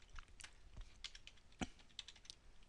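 Quiet, close clicking of computer keyboard keys in an irregular patter of single strokes, faint throughout with no talk.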